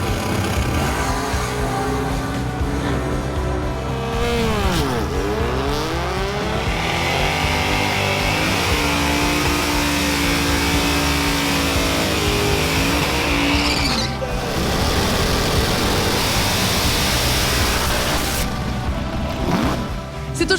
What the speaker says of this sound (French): C'est un moteur 568, environ 1025 forces.